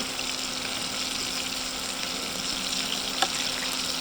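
Steady crackling sizzle of meatballs (frikadeller) frying in a pan, close and even, with one small pop near the end.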